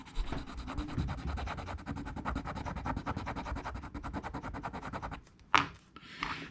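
A silver ring is rubbed back and forth on an acid test stone, making a steady, close scratchy grinding in quick repeated strokes, followed by a short sharp scrape and faint handling noise at the end.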